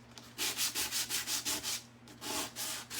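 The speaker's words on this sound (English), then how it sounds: "just using this sandpaper here, can pull back a little bit of the wood" Sandpaper rubbed by hand over the wood of an 1980s hall tree during a farmhouse makeover, a close series of about a dozen rhythmic rasping strokes that stop briefly and then resume, with no talk.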